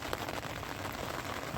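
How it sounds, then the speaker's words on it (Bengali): Rain falls steadily on a surface outdoors in the Sundarbans during the rainy season, a constant dense hiss of drops with no pauses. "এখনো কিন্তু বর্ষা কমিনি, আরো বেশি হচ্ছে বর্ষা।"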